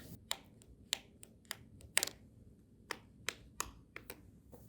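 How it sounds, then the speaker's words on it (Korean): Tongs clicking against a handmade resin fidget board, giving about a dozen sharp, dry clicks in an irregular rhythm, close and fairly quiet, with no talking. "두 번째는 집게로 딱딱 소리를 한번 내보겠습니다"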